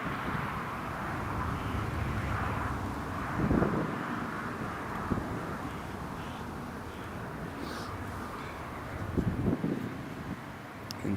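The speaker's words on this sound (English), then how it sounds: "There's the Belgian Air Force coming in." A Belgian Air Force Airbus A400M arrives at Newcastle Airport, heard as a steady, fairly distant broad roar partly masked by gusty wind buffeting on the microphone, with a few brief louder swells.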